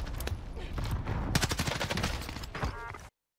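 Rapid gunfire from a Vargo 52 rifle in the video game Warzone on Rebirth Island, dense overlapping bursts of shots crackling continuously for about three seconds before cutting off abruptly.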